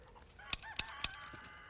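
In-game chickens in Resident Evil 4 give a few short, sharp clucks and squawks in quick succession, close and clear against a quiet background.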